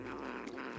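A cat growls in a low, continuous rumbling tone for under a second, close and fairly quiet, with no one speaking over it.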